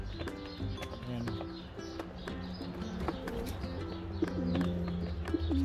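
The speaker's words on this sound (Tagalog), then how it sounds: "Sobra na tayo sa dami ng kalapati." Pigeons kept in a loft with breeders and youngsters coo repeatedly in overlapping low throaty calls, with scattered wing flutters and light knocks, a busy close flock sound throughout.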